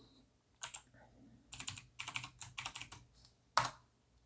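A password is typed on a computer keyboard in the middle of decrypting data with Kleopatra: quick bursts of crisp key clicks in uneven clusters, close and clear, ending in one louder keystroke, with no talking.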